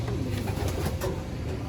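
Racing pigeons cooing at a loft, soft low murmuring coos repeating close by under a faint background hum, quiet and continuous.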